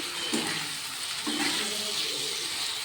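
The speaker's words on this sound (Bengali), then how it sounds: "তো দেখো এখানে জল অ্যাড করে দিয়েছি" Water is poured into a hot pan of egg and potato curry, giving a continuous rushing hiss and bubbling that swells twice over a few seconds, close and fairly loud.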